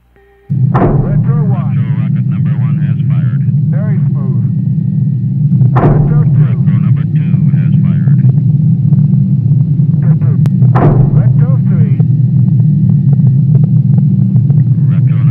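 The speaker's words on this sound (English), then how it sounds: "Okay, 3 retros have fired." Retro rockets fire in the Go For Launch Mercury game: three sharp bursts, evenly spaced about five seconds apart, over a continuous loud low rumble, with radio chatter between them.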